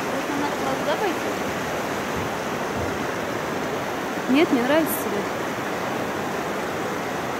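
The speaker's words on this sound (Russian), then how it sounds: "Ну, скромненький водопадик, конечно." A small, modest waterfall on a private trek near Sapa, Vietnam, roaring as a steady broadband wash throughout, with people talking over it in Russian.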